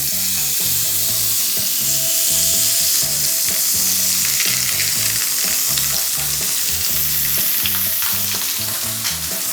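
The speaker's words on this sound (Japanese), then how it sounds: "よし、そしたら表面を焼いていきますか。" Roast beef sears in a hot pan over medium heat, giving a loud, close, continuous sizzle and crackle with rhythmic low bumps from the pan throughout, and no voices heard.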